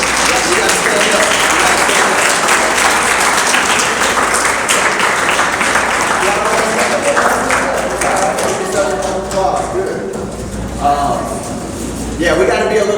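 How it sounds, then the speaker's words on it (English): Students and summer job program participants at the closing of a summer internship program applaud loudly and steadily, a dense wash of clapping that fades a little toward the end, with voices chattering underneath. "stand up and give yourselves a round of applause"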